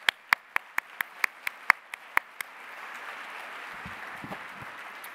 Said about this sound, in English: So one more great round of applause.